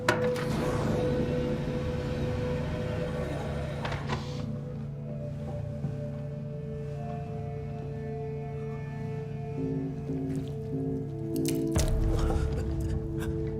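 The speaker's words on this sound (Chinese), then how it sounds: "这怎么还滴水啊？" Water drips inside a damaged Mars base in a science-fiction film: sparse, soft droplet plinks and squishy taps over a steady low mechanical hum, with no speech.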